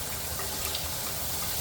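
Water streams steadily from a carbon fibre shower head, a continuous even hiss of spray that is loud and close and runs without a break.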